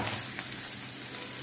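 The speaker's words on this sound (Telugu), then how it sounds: "ఇలా ఫ్రై చేసేసుకున్నాం చూసారా" Paneer frying in a pan, a brief steady sizzle with a couple of small pops, moderately quiet with no talking.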